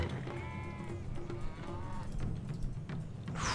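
Cattle moo in drawn-out, harmonic calls over a steady low rumble of strategy video game ambience, with a brighter burst of noise at the end.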